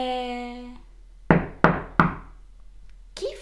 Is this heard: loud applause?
no